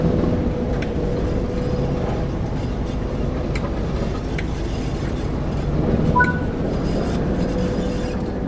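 A Class 08 diesel shunting locomotive in Train Sim World 3 rumbles with a low, steady engine drone as it begins to move, accompanied by faint clanks and squeaks.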